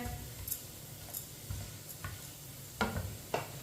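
Dal ingredients frying in a pan while a spoon stirs them, faint sizzling with scattered light clicks and scrapes of the spoon.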